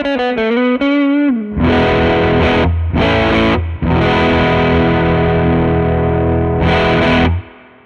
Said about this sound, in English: Now if we engage the Klon with the tone in the middle, level is at 1030, drive, let's get up to about 11.